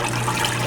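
Steady stream of water pouring while homemade butter from raw cream is rinsed, the runoff going into buttermilk, a brief close continuous splashing rush with no pauses.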